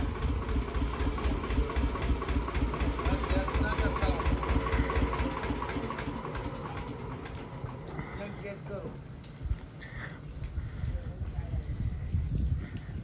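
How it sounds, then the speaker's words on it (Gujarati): An Eicher tractor engine idling nearby, a steady low rhythmic chugging that fades slightly midway, with people talking over it. "જો અમારા બીજું આઈસર ટ્રેક્ટર"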